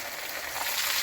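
Pieces of taro frying in oil in a pan make a brief, even sizzle that grows slightly louder toward the end, with no talking.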